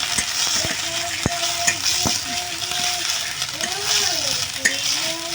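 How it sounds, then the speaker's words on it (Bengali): Mustard flower paste fries in oil while being stirred, giving a steady close sizzle with scraping and occasional sharp clinks of the utensil against the pan, under a voice speaking in the background. "তেলের মধ্যে দিয়ে ভালো করে নাড়াচাড়া করবো। 2 থেকে 3 মিনিট ভালো করে নাড়াচাড়া করে নেবো।"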